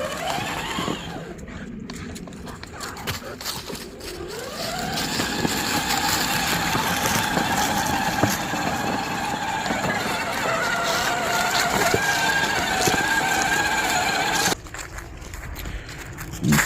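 ANPABO 24-volt shark-themed ride-on UTV dune racer driving fast over sand, a steady electric motor whine with rising pitch and rumbling wheel noise, loud and continuous, dropping off near the end.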